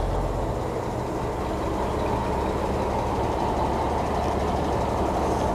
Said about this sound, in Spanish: Escuchen nada más ese motor Cummins 400.